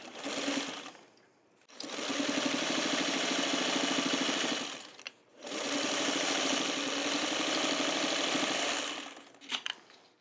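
A sewing machine stitching a potholder runs in two long steady bursts of rapid mechanical whirring, close and loud, with short pauses and a few clicks between runs and no talking.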